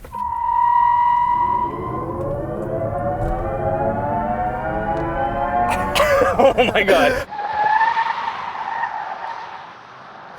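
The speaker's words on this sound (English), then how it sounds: "So the first part of that was all just tire, and then the futuristic engine sound came in." A 2023 Genesis GV60 electric SUV launching in its futuristic EV sound mode: tires squeal loudly at first, then a rising synthetic whine climbs steadily in pitch and holds. A person exclaims briefly in surprise.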